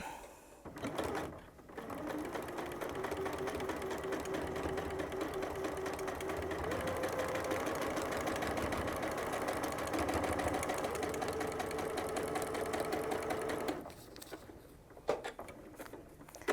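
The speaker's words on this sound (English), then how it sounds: "Now while that's under the needle, I'm going to just carry on and sew this one" A sewing machine runs steadily for about twelve seconds, chain piecing scrappy patchwork fabric triangles with a quarter-inch bar. Its close, even whirring patter is framed by brief handling noises at the start and end, with no talk.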